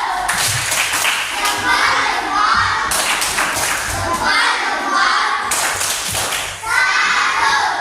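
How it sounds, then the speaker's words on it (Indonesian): A classroom of pupils performs the tepuk salam clapping chant during a teacher-training assessment lesson, with rapid rhythmic hand claps and thuds repeating in bursts alongside chanted children's voices, loud and close throughout. "Kita tepuk salam dulu. Tepuk salam."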